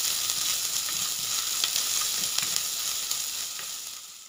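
Spinach soup ingredients sautéing with crushed black pepper in a pan, a steady bright sizzle with faint scraping stirs throughout, no voices.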